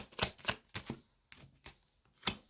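Tarot cards being shuffled by hand, a series of sharp riffling bursts in an uneven rhythm with short pauses between them, close and clear with no talking.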